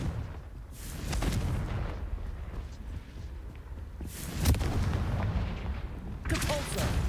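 Repeated Confringo spell explosions in Hogwarts Legacy, three heavy bursts with brief crackles spaced a couple of seconds apart over a rumbling game background.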